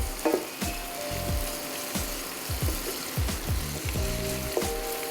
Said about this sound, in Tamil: ஸோ இது கொஞ்சம் வதங்கட்டும்.